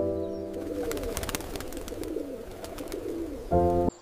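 Pigeons of mixed colours on a mosque roof, soft low cooing calls repeating over a few seconds, fairly close, with a brief tonal musical sting near the end and no talk.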